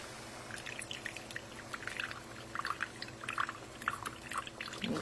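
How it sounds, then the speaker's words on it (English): Liquid is poured into a cooking mixture in a home kitchen during a neckbone and pork chop cook, a soft trickling stream with scattered splashes and drips, close and fairly quiet, with no talk. "you got to go ahead and start pouring your liquid in too"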